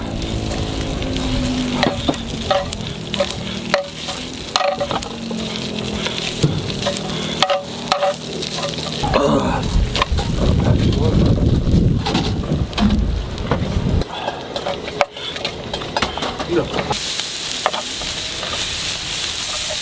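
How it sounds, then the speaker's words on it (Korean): Rice being stir-fried with thin-sliced pork belly on an outdoor rooftop grill pan, loud crackling sizzle with rhythmic scraping and tapping of a spatula, occasional wind rumble on the microphone. "자 마지막 하이라이트 밥 좀 볶아 먹어보자"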